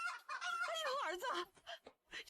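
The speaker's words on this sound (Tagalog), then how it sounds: "may 2 manok nga sa bakuran natin" Two chickens in a backyard give a run of loud, close clucking and squawking calls, busy and continuous for about a second and a half before breaking into a few shorter, sparser clucks.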